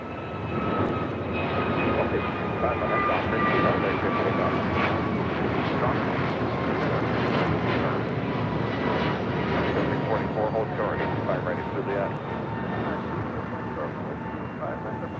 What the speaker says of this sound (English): Next takeoff is American Airlines Flight 658 heading to Miami, A321neo